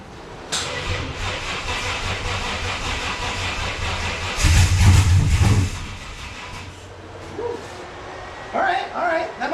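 Ford F150 with a Coyote engine cranks and fires, a rough chugging turnover that swells into a loud burst around the middle, then settles, close to the microphone, with a voice briefly toward the end.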